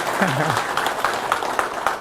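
Scattered applause from a small crowd, with a voice speaking briefly over the clapping.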